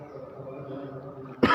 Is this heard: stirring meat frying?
no